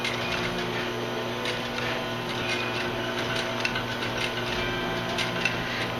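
Sewing machine running steadily while back stitching on a leather messenger bag, a continuous mechanical whir with fine rhythmic ticking of the needle, fairly close and alone.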